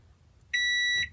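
A microwave oven gives a single steady electronic beep with a bright, pure tone, held for about half a second, close and loud against a quiet background.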